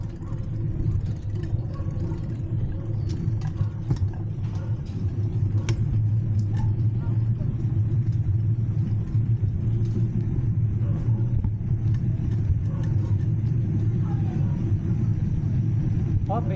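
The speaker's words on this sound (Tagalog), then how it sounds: "Oh, may sasakyan na." A car approaches along a road with a steady low engine rumble and whir that runs throughout, continuous and fairly close, while people talk over it.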